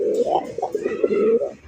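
Royal racer Golla pigeons coo softly in a series of low, throaty pulses, close by and steady with no talking over them.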